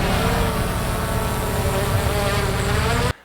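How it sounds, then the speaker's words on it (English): A DJI Mini 2 drone in flight outdoors, giving a steady, loud propeller whine and buzz that holds evenly for about three seconds before cutting off abruptly. "We're gonna get a sweet drone shot here."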